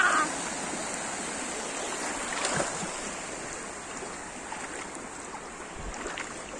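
Large sea waves roll in at Kỳ Xuân beach, Kỳ Anh, Hà Tĩnh, a broad rushing roar that swells as one breaks midway and then settles into a steady wash of surf.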